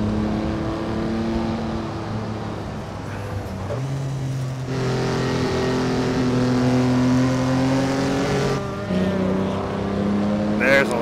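A classic mid-engine Chevy sports car in a VR racing game drones steadily with its engine note shifting through gears, while a person talks over the sound throughout.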